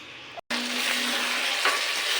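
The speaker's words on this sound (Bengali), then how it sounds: "নিচে মাংসটা কষানোর জন্য একটু জল দিয়ে দিল মা" Chicken braising in a pan after a splash of water is added, a steady loud sizzle and frying hiss with soft stirring scrapes, heard alone after a brief cut near the start.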